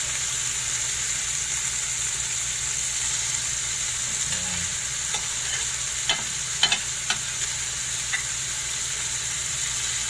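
Tomatoes fry in a pan with a steady sizzle throughout, while a few sharp clicks and scrapes of stirring come through near the end. Close and moderately quiet, with no talk.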